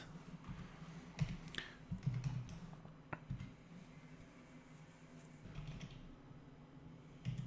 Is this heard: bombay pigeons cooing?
no